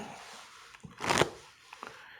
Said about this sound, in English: Now you're going to shuffle these into here, but make sure you don't shuffle those cards.